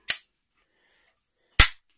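Two sharp, close shots from a WELL G74 AKS-74U gas blowback airsoft rifle running on CO2, roughly a second and a half apart, each a loud crack that fades quickly into near silence.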